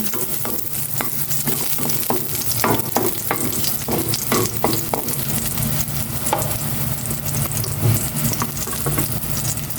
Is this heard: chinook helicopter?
no